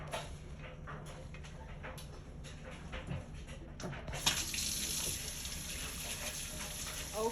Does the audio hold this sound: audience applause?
no